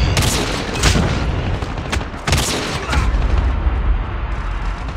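Loud, dense video game combat in COD Mobile: a grenade explosion booms amid continuous rapid gunfire and repeated heavy blasts, close and sustained throughout.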